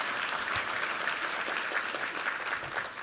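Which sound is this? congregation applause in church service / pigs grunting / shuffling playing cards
congregation applause in church service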